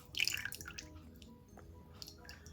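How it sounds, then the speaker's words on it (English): Canola oil is poured into a stand mixer bowl, giving a faint, brief liquid splash and drip at the start that fades into quiet. "we're going to add in 1 cup of canola oil, or you can use vegetable oil"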